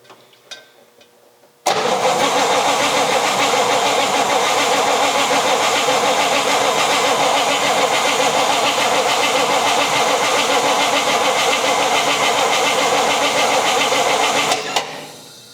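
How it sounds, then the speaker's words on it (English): An abandoned 1956 Chrysler Windsor engine, with its coil disconnected, cranks over loudly and steadily for about thirteen seconds without firing, then stops abruptly. "We're going to crank it over, get the oil pressure up."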